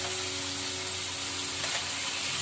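Pre-fried pointed gourd (parwal) dropped into spices cooking in hot oil, giving a loud, continuous sizzle with a low steady hum beneath, nothing else over it.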